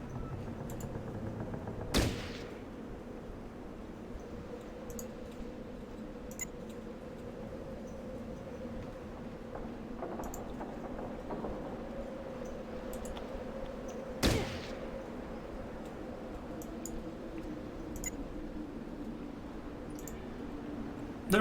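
Two sharp gunshot bursts in Fallout Tactics, one near the start and another later, cracking over a steady low game ambience with nothing else happening between them.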